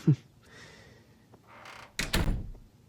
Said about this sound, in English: I'd prefer if the door was closed